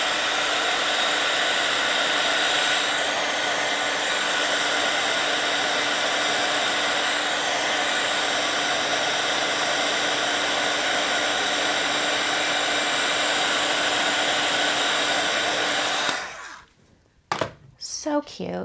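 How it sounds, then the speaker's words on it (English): A heat tool blows over a handmade holiday card with a steady, loud whirring hiss for about sixteen seconds, then clicks off. Brief handling noises follow. "I'll hit this with my heat tool."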